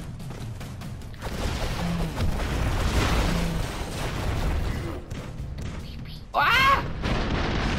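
Explosions from the run-and-gun video game Broforce rumble almost continuously, with a dense spread of blasts and a sharper burst near the end, mixed under excited Thai speech.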